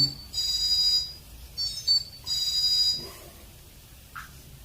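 An alarm sounding in three repeated beeping bursts, steady and fairly clear, with short gaps between them and a brief faint chirp near the end.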